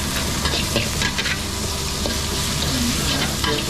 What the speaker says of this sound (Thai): เวลาจะคั่วให้เราใช้ไฟแรงนะครับ